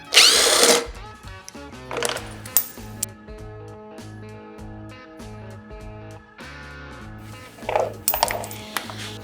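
A power tool removes bolts from the rear muffler cover of a RZR Turbo off-road vehicle, giving a few sharp, loud whirring bursts with a steadier mechanical drone between them.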